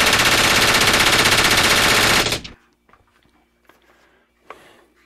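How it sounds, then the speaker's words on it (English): An FN P90 fires a rapid, sustained full-auto burst, loud and close, for over two seconds before cutting off abruptly, followed by faint clinks and a short rustle in near silence. "Shooting the FNP90 has always been disappointing to me."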